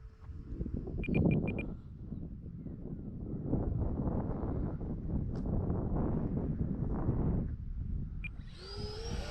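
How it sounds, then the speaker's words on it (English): Steady outdoor wind buffets the microphone in a continuous broadband roar that swells and eases, with brief faint tones near the start and end and no speech. "that wind feels like it has changed a little bit. It's now coming more out of the west."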